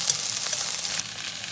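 Garlic sizzling in hot oil with eggplant strips in a wok, a bright, hissing fry that holds steady and eases slightly toward the end, close and alone.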